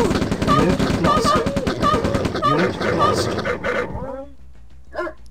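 Attack dogs in the strategy game Command & Conquer Red Alert bark in rapid bursts amid machine-gun fire and battle noise, ending with a few yips and whimpers; someone talks over the game sounds.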